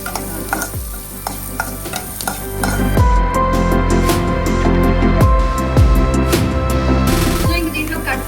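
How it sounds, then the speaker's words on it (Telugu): Chopped garlic and onion frying in a pan, loud sizzling with rhythmic metal spoon scrapes and knocks against the pan, close and continuous. "అండ్ నెక్స్ట్ ఆనియన్ కూడా బ్రౌన్గా వచ్చేలాగా కలిపేసుకుంటున్నాను"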